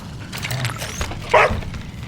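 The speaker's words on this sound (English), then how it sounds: "I love our little dog. He's so adorable." Small dog in the video game Song of Farca giving a short yip or bark, brief and moderately loud over a steady game background with no talk.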